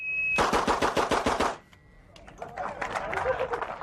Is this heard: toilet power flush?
no